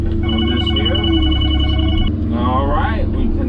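A telephone rings at a homestead building site in the Windham mountainside, its steady electronic ring tones repeating for about two seconds over loud machinery rumble, then giving way to talk.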